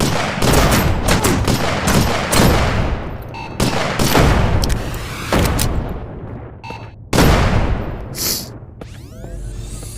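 Magnum gunfire in the Shotwood VR shooting game: a rapid series of loud, sharp shots cracking in quick succession with echoing booms, then a few spaced heavy blasts and a ringing tail.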